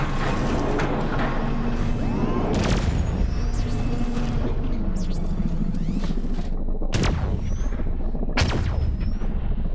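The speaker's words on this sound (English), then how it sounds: "Wow, that's a big cannon." A big cannon firing in the space strategy game Endless Space 2, with booming blasts and sharp cracks over a dense, continuous rumble of battle effects and mechanical whirs, loud throughout with no talk.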